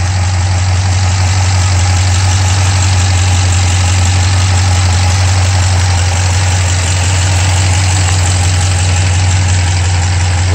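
A stock 1955 Studebaker Speedster with its original engine idles steadily and close by, a loud, even low rumble running unbroken with no talking over it.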